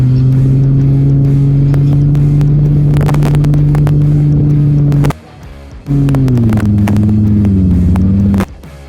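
A paramotor's small engine drones loudly and steadily during a landing approach, cuts out briefly, then resumes with its pitch sliding lower before stopping, with wind buffeting throughout.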